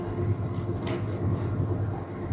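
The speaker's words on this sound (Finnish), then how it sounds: "tuolla menee juna" A train rolls past in the Fortnite video game, a steady low rumble with a brief bright hiss partway through, holding at an even level for the whole stretch with no talk over it.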